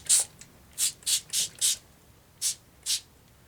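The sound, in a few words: spraying paper for an envelope journal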